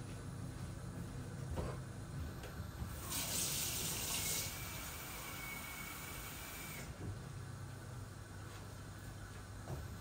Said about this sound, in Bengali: এখন আমি জল দিলাইমু